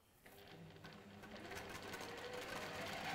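A sewing machine stitches along fabric seams in a workshop, its motor running steadily and rising slightly in loudness over a few seconds, with no talking.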